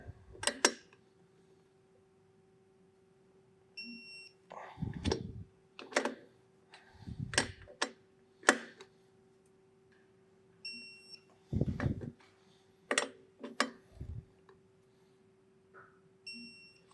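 Torque wrench tightening the lug nuts on a utility trailer wheel with radial tires, producing a series of faint, close clicks and metallic ticks in irregular bursts between quiet pauses.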